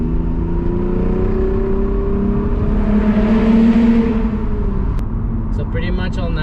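Exhaust of a Lexus IS 350 F Sport with a resonator delete, a loud, continuous low engine drone that swells and rises in pitch mid-clip as it revs, then settles, with no talk over it.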